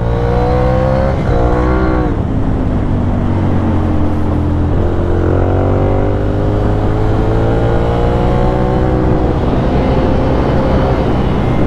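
Ducati Monster 696 from 2014, a two-cylinder motorcycle, on a ride: a loud, close, throbbing V-twin engine note repeatedly dropping and climbing in pitch through gear changes and throttle, continuous for the whole stretch.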